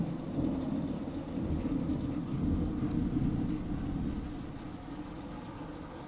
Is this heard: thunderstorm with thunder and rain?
yes